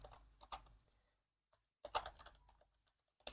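Typing on a computer keyboard, close and quiet: a quick burst of key taps, a pause of near silence, then another short flurry of clicks.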